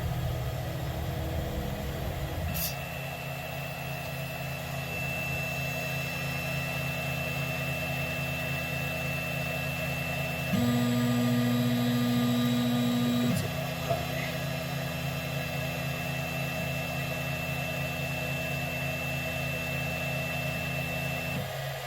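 A Robo E3 Pro 3D printer's motors whir at a steady, faint, low pitch as its bed moves to the rear. For about three seconds in the middle the whine grows louder and higher, then settles back. No one speaks.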